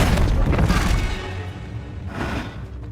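A Bombarda blast spell going off in Hogwarts Legacy, a loud booming burst at the start that rolls into a sustained rumble and fades, with a smaller swell of crackle near the end.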